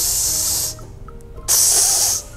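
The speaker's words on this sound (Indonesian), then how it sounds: "dia tuh kalau anak kucing giniin pasti hising" Two long, loud hisses from a kitten, each lasting under a second, come from close by with a short quiet pause between them.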